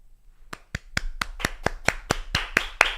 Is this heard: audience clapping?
yes